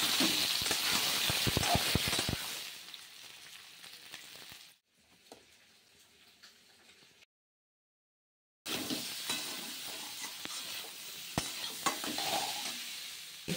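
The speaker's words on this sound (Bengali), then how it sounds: "চলো, কাঁচকলা আলুটা আমি দিয়ে দিলাম জিরে ফোড়ন দিয়ে। তো এবার ভাজবো নুন হলুদ দিয়ে।" Raw banana and potato frying with cumin, salt and turmeric in a pot, close crackling sizzle with stirring scrapes that fades, drops to near silence, then returns strongly, no voices.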